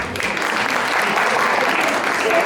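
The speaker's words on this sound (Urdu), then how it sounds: "خواتین حضرات، دارالحکومت کے لیے بھرپور تالیاں ہو جائیں۔" Steady, dense applause from the audience at a girls' poetry mushaira at Lawrence College, loud and continuous with no break.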